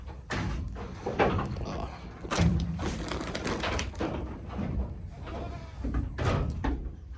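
Pure Nubian Black goats bleat repeatedly at morning feeding time on a farm, several loud calls overlapping amid shuffling and rustling, with a few sharp knocks and no talking.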